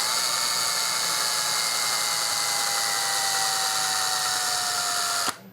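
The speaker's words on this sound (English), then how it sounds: "I'm going to drill right down the center." A power drill with a 1/16 inch bit bores down the center of a part for an ice fishing rod build, giving a loud, steady whirring whine with a faintly falling pitch that cuts off abruptly near the end.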